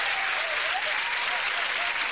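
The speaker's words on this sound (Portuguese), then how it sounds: "Tudo a bater palmas, faz favor." A crowd at a lunch gathering claps loudly and steadily, dense continuous applause filling the whole moment at close range.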